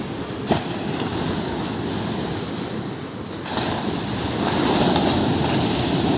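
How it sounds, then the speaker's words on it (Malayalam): Sea waves wash ashore at Alappuzha beach in a steady, close roar mixed with wind buffeting the microphone, swelling louder in the second half, with no talking. "നമ്മൾ കടലിൻ്റെ അടുത്തെത്തി ഗൈസ്."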